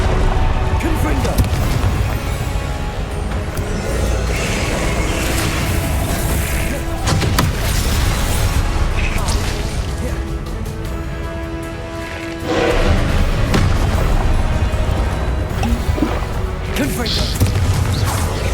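Confringo blasting spell explosions in Hogwarts Legacy, repeated heavy booms and crashes over a dense, loud game soundscape, with voices talking across much of it.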